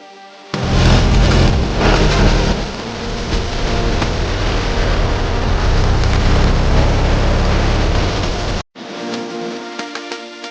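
A loaded tractor carrying soil runs with a loud, steady engine roar up close, cuts out abruptly near the end and then resumes with a lighter hum, with no talking over it.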